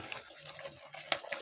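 Water runs steadily from a tap in a brief close stream, with a small splash or clatter near the end and no talk.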